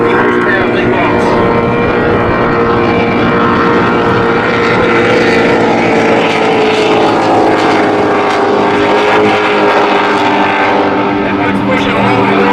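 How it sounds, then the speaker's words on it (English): Loud, continuous roar of a pair of 750-horsepower big-block engines on an offshore racing boat, screaming and sustained throughout, with a steady droning pitch. "just listen to a pair of screaming 750 horsepower big blocks"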